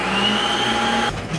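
Kitchen blender whirring through omelette batter after cassava flour is added: a steady motor hum with a high whine that cuts off near the end, followed by a short quieter whir.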